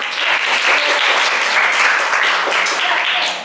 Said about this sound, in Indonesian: Yuk, biar semangat kita tepuk tangan dulu dong